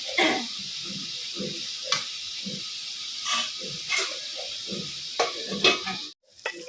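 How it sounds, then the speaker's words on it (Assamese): Cooking in a pan with a splash of water added, a soft hissing sizzle broken by repeated short stirring scrapes and clinks, then a brief drop near the end. "এনেদৰে এতিয়া ভালকৈ অকণমান পানী দি ভাজি লওঁ"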